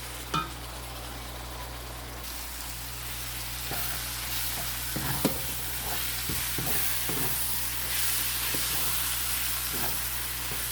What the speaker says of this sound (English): We're going to cook our meat properly.